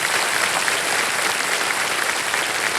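Steady, dense applause from a large TV game show studio audience on Kaun Banega Crorepati, loud and sustained throughout with no voices standing out.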